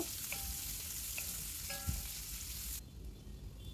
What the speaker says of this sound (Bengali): পেঁয়াজটা কিন্তু হালকা একটু সতে করে নেব